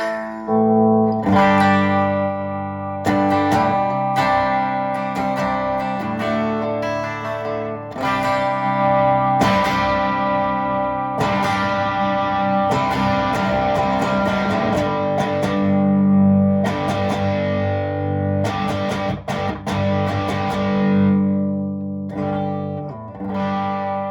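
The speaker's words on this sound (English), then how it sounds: "So I'll show you the range on this particular guitar from 0 all the way up to full-on distortion." Electric guitar played continuously with strummed chords and riffs through an overdriven amp, the tone growing progressively more distorted and saturated from clean to full distortion, loud and up close.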